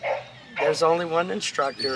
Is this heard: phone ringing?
no